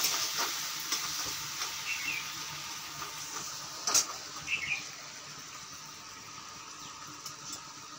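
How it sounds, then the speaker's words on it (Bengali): Banana flower curry with prawns cooking in a pan at home gives a gentle, soft sizzle throughout, with faint bird chirps in the background. "এখন মা রান্না করছে মোচার তরকারি চিংড়ি মাছ দিয়ে"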